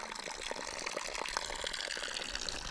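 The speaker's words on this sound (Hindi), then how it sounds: "ये देखो भाई चरवाहों की पानी की धारा" A herders' stream of water in the hills flows with a soft, continuous gurgle and trickle, quiet and even throughout with no voices.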